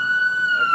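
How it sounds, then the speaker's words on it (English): An ambulance siren on a city street beside buildings under construction, a steady high wailing tone held loudly and evenly throughout the short moment with faint traffic noise beneath. "here's an ambulance"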